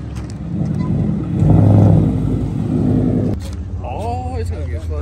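Ford Mustang 5.0 with a ten-speed transmission, its engine rumbling loud and close at a street race night, swelling briefly before settling into a steady idle as people talk nearby.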